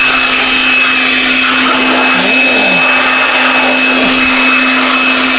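A vacuum blower whines loudly and continuously, a steady high-pitched hum with no pauses.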